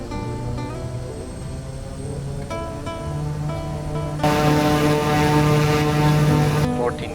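A Kodiak 100 turboprop in the MSFS 2024 game hums loudly and steadily during its takeoff roll, the propeller drone holding a tonal whine that grows louder and brighter partway through.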